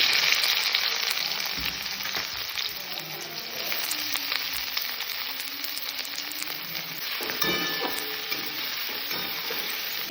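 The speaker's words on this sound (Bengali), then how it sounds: "মশলা ডোসা তৈরি করার জন্য প্রথমে পেঁয়াজগুলো ভেজে নেব।" Chopped onions fry in hot oil for masala dosa, a loud continuous sizzle with stirring scrapes that rise and fall throughout, close and with no talking.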